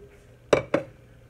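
A kitchen bowl is set down twice in quick succession, two sharp close knocks about a fifth of a second apart, alone against a quiet room.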